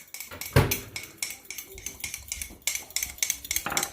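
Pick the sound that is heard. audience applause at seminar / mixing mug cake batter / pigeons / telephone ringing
mixing mug cake batter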